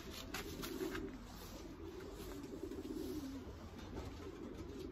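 A blue hen pigeon coos in low, throaty rolling phrases, faint and close over a steady background hiss, with no talk.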